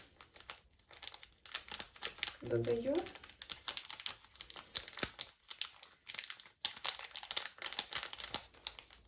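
A small packet of baking powder crinkles and rustles in repeated bursts close by while a person speaks briefly in a home kitchen.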